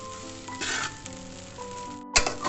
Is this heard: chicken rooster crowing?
no